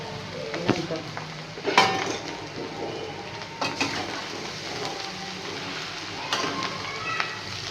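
Potatoes sautéing in a pan for vada pav, with a low steady sizzle broken by several sharp clanks and scrapes of a utensil against the pan, close up.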